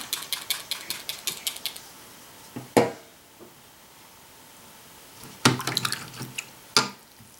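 Quick, repeated pumping sprays from a spray bottle, a fast series of short hisses followed by a few louder spaced bursts.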